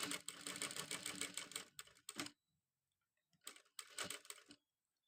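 A sewing machine stitches a school uniform top placket in two loud runs, a long burst then a shorter one after a quiet pause, with faint handling noise between.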